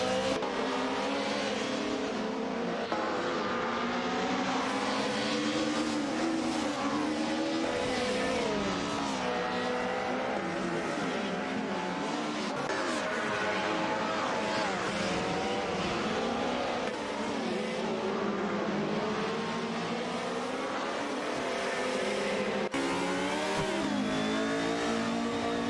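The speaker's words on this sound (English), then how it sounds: "Obelixamax and 7 at 27, in the BMW M3 GTR Evo, are battling it out with Rizaldi Adha in the Mercedes Cone 180 DTM for the 12th position" Several simulated race cars, a BMW M3 GTR Evo and a Mercedes 180 DTM among them, fight wheel to wheel in a racing video game, with dense overlapping engine whine, revving and occasional tire squeal, loud and continuous throughout.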